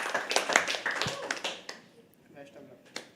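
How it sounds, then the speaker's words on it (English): Audience applause at an open mic poetry event at The Habitat, steady clapping from a crowd lasting a few seconds and fading toward the end, with a few isolated claps after. "Keep clapping. Everybody, till she comes on stage."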